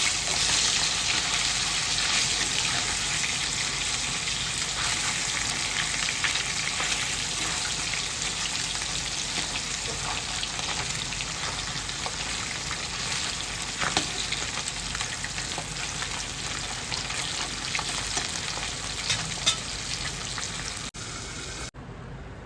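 Fish frying in oil in a pan while being flipped over, a loud, steady sizzle with bursts of crackling, close by and constant throughout, fading slightly near the end.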